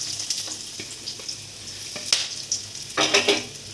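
Two dried red chillies, a bay leaf and half a teaspoon of whole cumin frying in oil for a sweet potato dish, short crackling bursts and spits rising and falling, louder toward the end.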